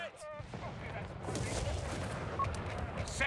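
Dense, continuous battle noise from the strategy game Company of Heroes 3, with gunfire including machine gun bursts blending into a steady mid-loud roar of combat.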